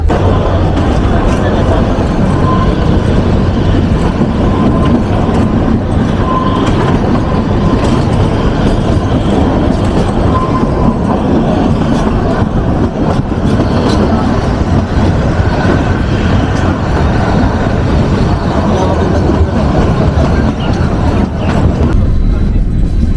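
Kalka–Shimla toy train (Shivalik Express) in Himachal Pradesh running on rails, a steady continuous rumble of wheels and carriage noise throughout, with voices talking faintly underneath.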